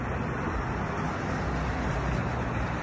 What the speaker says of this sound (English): This is the bus I just missed